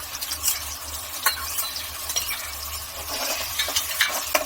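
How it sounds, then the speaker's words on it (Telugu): Onion paste and ginger garlic paste sizzle and fry in a pan for chicken curry, a steady close crackle broken by repeated scraping stirs of a spoon against the pan. "ఇది పచ్చివాసన పోయేంత వరకు వేయించుకోవాలి."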